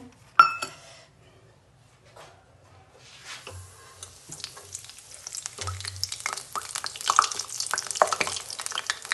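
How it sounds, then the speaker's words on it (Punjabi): Peanuts roast in hot oil inside a mesh strainer. After a sharp clink, a soft sizzle builds into dense, crackling frying that grows louder toward the end. "ਮੂੰਗਫਲੀ ਨੂੰ ਨਾ ਤੇਲ ਦੇ ਵਿੱਚ ਰੋਸਟ ਕਰ ਲਾਂਗੇ"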